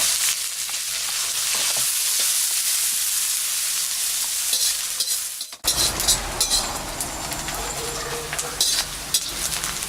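Onions fry for a fish curry in a pan, a dense sizzle that drops off briefly partway through, then returns with crackling, spoon scrapes and light metallic clinks against the pan.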